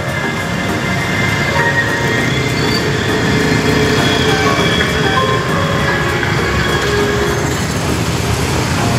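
An LRT light rail train rumbles steadily past in Caloocan City, Philippines, wheels clattering and faintly squealing, loud and close throughout with no talking.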